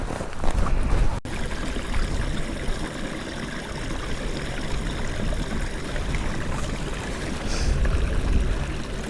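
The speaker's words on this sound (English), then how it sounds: "This is Nether Red Brook, and this is where we're going to collect the water for tonight." Nether Red Brook, a moorland stream on the edge of Kinder Scout, rushes and gurgles close by in a loud, continuous wash of flowing water.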